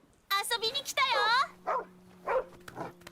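A dog in a Tekken 8 character ending gives a few short yips and whimpery barks close up, mixed with voices talking over it and a low steady tone underneath.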